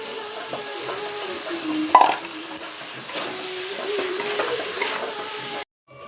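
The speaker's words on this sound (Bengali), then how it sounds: "আমি চালটাকে আর ডালটাকে কিছুটা পরিমাণ কষিয়ে নিলাম।" Gobindobhog rice and mung lentils are stir-fried in a pan, a soft steady sizzle with scraping stirs and a sharp utensil knock near the start, ending abruptly in silence.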